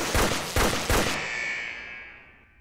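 Three rapid sniper taser shots in the video game Fleeing the Complex, each a sharp, loud electronic crack about half a second apart, followed by a fading high-pitched ringing tail with no voices.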